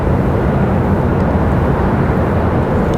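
A brightly liveried airplane at Raleigh-Durham airport roars steadily and loudly in a broad, continuous engine rush that stays constant throughout, heard from fairly close by with no talking.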